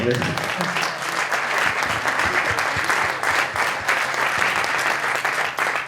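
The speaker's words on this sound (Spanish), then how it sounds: "a hacer un aplauso" An audience at a documentary presentation breaks into loud, continuous applause, dense clapping with crowd noise and some voices mixed in.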